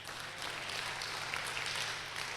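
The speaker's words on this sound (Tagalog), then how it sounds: "Pumalakpak ng malakas" A church congregation claps loudly during a sermon, producing a dense, steady wash of applause from many hands that fills the whole stretch without pause.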